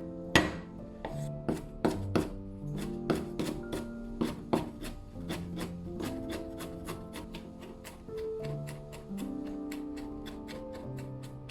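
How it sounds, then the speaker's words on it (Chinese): A knife chops ginger on a cutting board in a steady run of crisp, close taps, pausing briefly and picking back up, with no talking. "切点姜"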